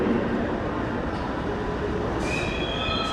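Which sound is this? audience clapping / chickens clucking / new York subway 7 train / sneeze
new York subway 7 train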